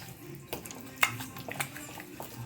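Chicken legs being mixed by hand with marinade in a bowl, soft wet squelching and occasional clinks against the bowl, close and fairly quiet.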